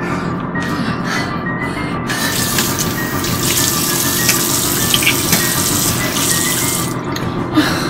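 Water runs steadily from a tap into a sink for mouth washing, a loud, continuous close splashing stream with small shifts in flow and no talking.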